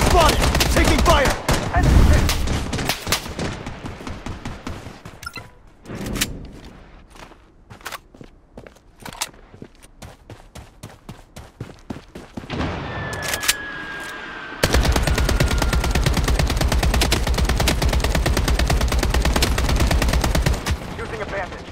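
Rapid gunfire in the shooter game Bloodstrike, dense bursts of automatic shots that crackle loud and close, with sparse single shots in the middle and a sustained heavy volley near the end.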